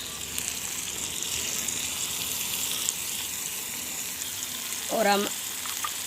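Steady, close sizzling of meat frying in a pan with ginger, green chili and garlic paste, with a brief scraping stir near the end.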